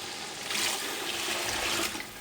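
Water pours steadily into a pot of pea pulao with cooked tomatoes and oil, a continuous splashing gush that runs for about two seconds.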